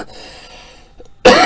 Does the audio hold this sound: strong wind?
no